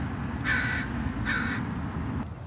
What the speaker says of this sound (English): The crow is making this cracking sound.